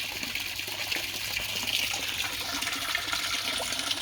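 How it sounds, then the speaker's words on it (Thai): Strong, steady rush of water pouring and splashing continuously into a koi pond, close by, with no voices. "เพราะว่ารู้สึกว่าน้ำไหลแรงมาก"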